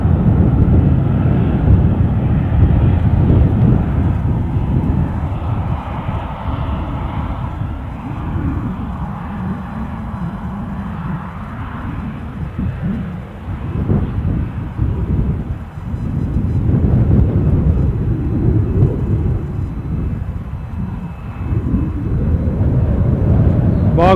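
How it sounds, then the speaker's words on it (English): A Ryanair airliner taxis fast at Edinburgh airport, its engines giving a heavy, steady low roar that swells and eases over about twenty seconds, mixed with wind buffeting the microphone. "let's have this fast taxiing Ryanair"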